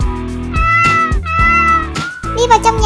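Cats in the video game Toca World let out a run of loud, drawn-out meows, one after another in close succession, with no talk over them.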